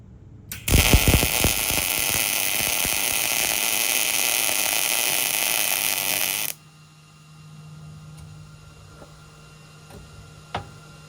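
A MIG welder running at wire speed 60 gives a loud, steady crackling sizzle for about six seconds, then cuts off sharply, leaving low hum and a few faint clicks.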